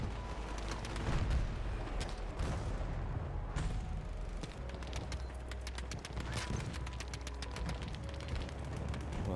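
Enemy gunfire rattles through a Battlefield 2042 match, a dense, faint stream of scattered shots and crackling impacts sounding at a distance over constant battle noise.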